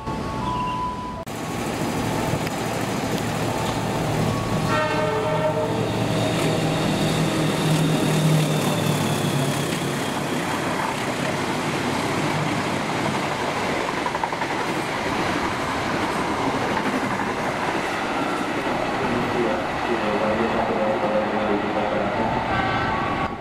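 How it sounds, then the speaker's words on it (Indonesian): Argo Merbabu 23 passenger train rushing through a station, a loud continuous rumble and rail clatter with a brief horn toot near the start, sustained throughout without speech. "Barusan kereta api Argo Merbabu 23 udah melintas"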